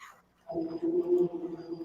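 A puppy gives a short, high-pitched yip or bark, followed by a brief whimpering tone, heard close up after a moment of near silence.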